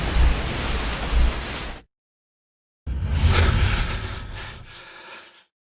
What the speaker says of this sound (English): Once activated, the kamikaze will explode itself in mere seconds, and it has a huge explosion radius